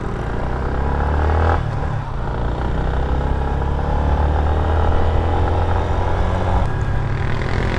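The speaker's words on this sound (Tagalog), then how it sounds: "Mga banking na motor" Motorcycles banking through a turn during a town fiesta in Iriga, Bicol, their engines droning loudly and continuously up close, with a brief dip and a shift in pitch partway through.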